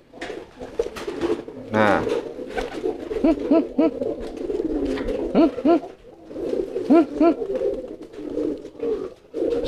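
Male pigeons cooing in a courtship display, repeated throaty coos in short rhythmic bursts heard close by, with a brief spoken remark near the start and scattered shuffling between calls.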